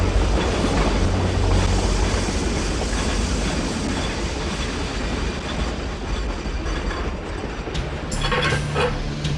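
A steam train from the game The Last Express rolls along in a loud, continuous rumble, with rhythmic clickety-clack from the wheels and faint metallic squeals near the end.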